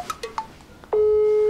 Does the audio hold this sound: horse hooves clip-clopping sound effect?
no